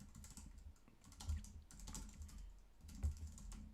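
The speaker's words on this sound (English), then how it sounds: "I've hit enter on my keyboard" Someone types on a computer keyboard, with quick light clicks in an uneven rhythm and a couple of firmer key presses, close by and quiet, with no talking.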